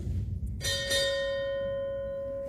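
A ship's bell rings twice in quick succession at a US Navy retirement ceremony, bright and clear, the tone ringing out and slowly fading.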